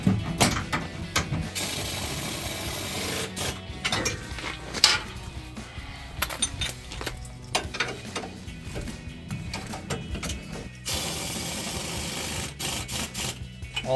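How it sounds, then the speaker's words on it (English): A ratchet and 15mm socket tightening the nuts and bolts on Mammoth Trail Series monotube rear shocks on a 2009-2023 Ford F-150, making steady rapid clicking in runs with brief pauses, close up and without talk. "So now we're gonna tighten everything back."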